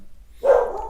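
A single sharp bark from Sasha, a pet dog indoors at home, rings out loud and close after a moment of near quiet, with no talking over it.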